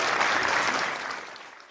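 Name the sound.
audience applause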